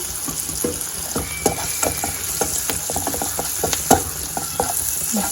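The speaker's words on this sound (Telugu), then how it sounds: "ఇక్కడ పచ్చివాసన పోయింది బాగా వేగిపోయింది" Vegetables frying in a pan with green chillies, a continuous close sizzle with frequent rhythmic stirring clicks and scrapes against the pan.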